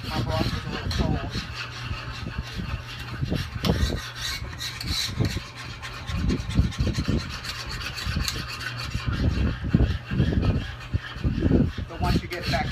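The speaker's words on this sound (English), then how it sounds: "So just keep whisking until it gets back up to temperature." Broth is whisked in a pan, giving a close, rhythmic scraping and rasping beat that continues steadily throughout, with a voice talking over it.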